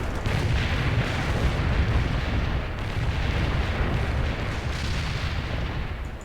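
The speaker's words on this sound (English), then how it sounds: "Light artillery barrage fired at coordinates." Light artillery barrage called in during a World in Conflict match: a dense, continuous wash of rumbling blasts and booms rolling steadily for several seconds, loud and close, with no speech.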